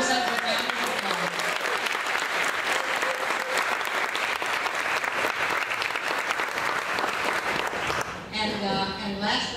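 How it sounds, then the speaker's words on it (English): Sustained applause from a convention audience at an American Rose Society installation ceremony, loud and dense throughout, tapering off near the end. "Give yourself a round of applause."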